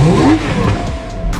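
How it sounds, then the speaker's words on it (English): Lamborghini Aventador Pirelli edition, one of 100, its V12 engine revving hard in a sharp rising blip that then settles to a rough idle, loud and close. "I got to sit and start and rev this Pirelli edition 1 of 100 Lamborghini Aventador"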